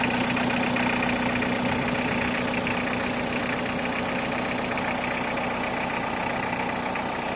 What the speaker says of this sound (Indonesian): inilah ciri khas dari mesin diesel Nissan yang ber-cc 2000 cc